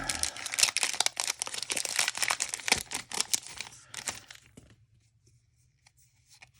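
Crinkly foil of a Pokémon TCG Rebel Clash booster pack tears open in quick rough bursts up close for about four seconds, then the rustling fades to near silence.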